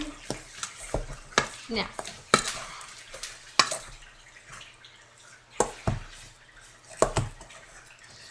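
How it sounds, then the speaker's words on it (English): A meatball mixture for Italian meatballs being stirred in a bowl, with repeated wet, squelching strokes and clacks of the spoon against the bowl in an irregular rhythm, close up, with a brief word spoken. "completely stirred without having a problem"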